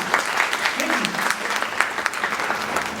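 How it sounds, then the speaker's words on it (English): An audience claps for a respected former professor during a talk about the old days, steady crowd applause at moderate volume with a few sharper individual claps standing out. "Give him a clap"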